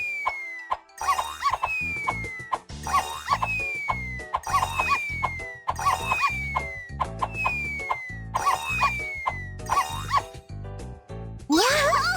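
Cartoon dog barking in a Pororo children's video game about walking a pet safely, repeated yips recurring every couple of seconds over bright, bouncy game music, with a rising chirpy effect at the end.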